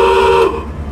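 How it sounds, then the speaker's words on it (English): Regular factory horn on a 1979 Pontiac Trans Am gives one short, loud, steady honk lasting about half a second, then cuts off and leaves a fading low rumble. "Okay, so this is a regular horn."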